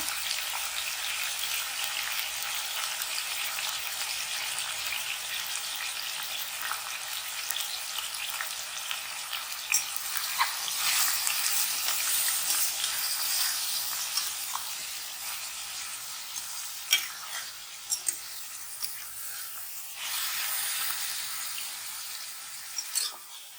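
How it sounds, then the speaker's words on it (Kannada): About half a kilo of chilli chicken frying in a pan over a medium flame gives a steady, even sizzle throughout, with small crackles and pops rising now and then. "ಇದು ಮೀಡಿಯಂ ಫ್ಲೇಮಲ್ಲೇ ಫ್ರೈ ಮಾಡ್ಕೊಬೇಕು."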